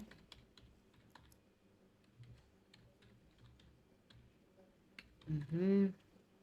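Someone types an email address into a landing page form on a computer keyboard: scattered, light key clicks in quick runs, close by, with a brief louder voice-like sound near the end.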